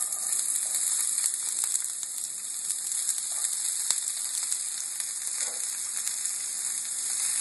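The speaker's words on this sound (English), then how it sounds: "And I'm going to add a small sweet onion I've chopped." Chopped small sweet onion sizzles steadily in hot ghee in a pan over medium heat, with a continuous close frying hiss and a few brief crackles.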